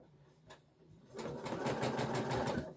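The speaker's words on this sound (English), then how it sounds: "and just sew a single hem" A sewing machine stitching a narrow single hem on slippy blouse fabric: a faint tap at first, then the motor whirs into a steady, close rapid stitching run that continues to the end.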